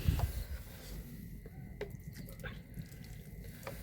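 Water poured over hands for washing in a home kitchen making Bengali winter pithas, a soft splashing trickle close by with a few drips, steady and fairly quiet throughout.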